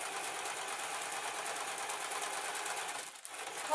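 Sewing machine running steadily while stitching scrap fabric for a rice-filled juggling bean bag, a close, continuous buzzing whir that pauses briefly near the end.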